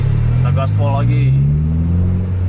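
A car accelerates hard at full throttle in a road race on a public highway, the engine droning loud and close with its pitch climbing steadily while a person talks over it.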